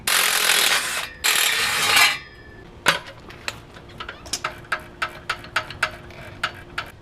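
A hand ratchet clicks in a quick, even series of sharp metallic ticks while loosening bolts on a 2006-2011 Honda Civic engine, following two bursts of hissing spray at the start.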